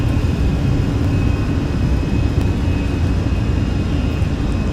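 An airliner accelerates down the runway and rotates in Microsoft Flight Simulator 2020, a steady loud engine roar with a low rumble and a faint high whine holding constant throughout.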